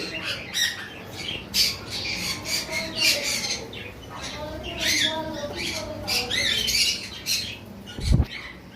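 A lovebird squawks repeatedly in harsh, close calls while a person talks nearby.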